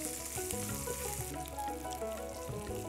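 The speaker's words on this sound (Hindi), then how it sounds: "मिर्च डालने के बाद हम हल्का हल्का इन्हें फ्राई करेंगे।" Green chillies frying in a pan for a chilli sabzi give off a steady, close sizzle and crackle. The sizzle holds at an even level throughout, with no voices.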